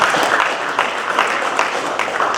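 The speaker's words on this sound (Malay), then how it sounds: "Satu tepukan untuk DBP." An audience at a Malaysian film crew day event gives a round of applause, a dense, even patter of clapping that holds steady throughout.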